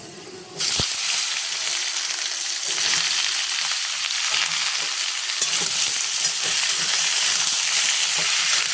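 Papaya pieces drop into a hot pan and burst into a loud, sudden sizzle that settles into continuous frying with stirring scrapes, no voices.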